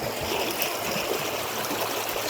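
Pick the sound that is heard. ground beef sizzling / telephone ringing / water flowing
water flowing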